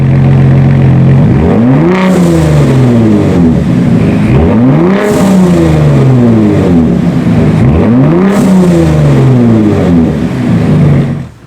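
A Gen 3 Ford Raptor with an aFe Power Vulcan exhaust in Baja mode roars through three loud revs, each climbing sharply then settling back to a rumbling idle, very close and powerful.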